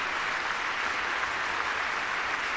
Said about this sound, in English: it will be interesting to see if Democrats stand and clap for her family who's here.